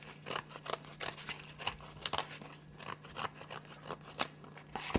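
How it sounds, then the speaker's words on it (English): Scissors snip rapidly through a cake board, a steady run of crisp, close cuts repeating several times a second over a faint hum. "I can go ahead and trim this board right now so it's the same size as the cake."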